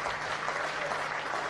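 A cricket crowd at the WACA applauds a century in a Sheffield Shield match, a steady wash of clapping across the whole moment at moderate distance.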